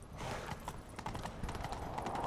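Horse hooves clip-clop at a steady gallop in The Witcher 3 video game, a continuous rapid rhythm close up over a low rumble of movement, with no talk.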